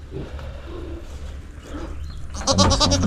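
Goats bleat outdoors, a few wavering cries near the end rising over a low rumble of background noise.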